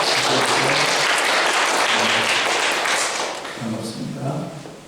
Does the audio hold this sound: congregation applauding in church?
yes